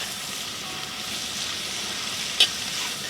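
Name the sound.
garlic and vegetables sautéing in a pan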